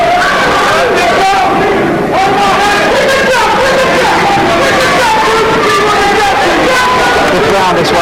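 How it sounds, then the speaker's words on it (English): Ringside crowd at a WBO boxing match, Duke McKenzie versus Gaby Canizales: a loud, continuous roar of many voices shouting and chanting at once, rising and swelling throughout with no pause. "Crowd at ringside saying, keep up the jab to McKenzie"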